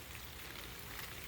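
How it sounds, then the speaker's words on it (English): Light evening rain shower outdoors, a steady soft patter of raindrops on surfaces, faint and continuous, with no voices or other sounds. "A nice little rain shower in the evening."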